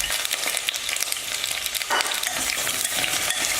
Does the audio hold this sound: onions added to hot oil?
yes